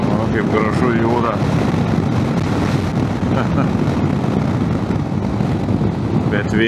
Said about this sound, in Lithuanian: Bet vėjas dabar pasidarė, tai vėl stiprus labai